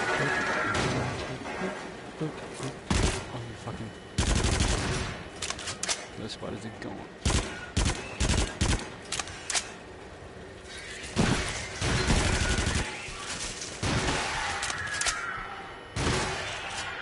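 Shotgun blasts in a console shooter come as loud, sharp bangs in irregular clusters, with gaps of quieter background between volleys and occasional voice chatter.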